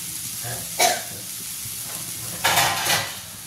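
Cut kartule vegetable steaming and softly sizzling in a covered pan over low heat, a steady faint hiss with a few brief louder scrapes and clinks of a utensil or lid.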